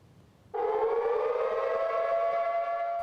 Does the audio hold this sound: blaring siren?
yes